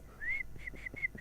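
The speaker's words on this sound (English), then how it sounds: "You're whistling on air." A person whistles a tune live on a radio show, several clear sustained notes with short gaps between them, close and fairly quiet, with no talking.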